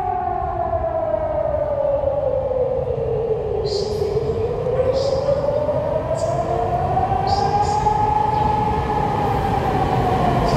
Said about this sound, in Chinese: 列车进来。